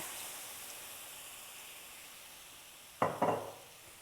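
Beer hits a hot pan with a sudden sharp sizzle, then a second burst of hissing and steaming that fades, over a faint background hiss.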